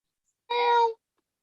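A single short, clear house cat meow, half a second long and fairly loud, alone against silence.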